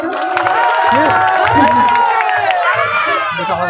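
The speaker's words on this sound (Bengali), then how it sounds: "একটু প্লিজ সকল মানে হাততালি দাও তো দেখি তোমরা কত জোরে দিতে পারো" A crowd at a live singing show cheers, shouts and claps loudly and continuously, with children's voices and whistles rising above the steady roar.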